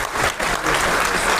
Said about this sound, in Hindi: रुकिए, ताली बजाएं सब।